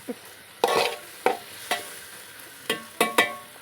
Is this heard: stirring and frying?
yes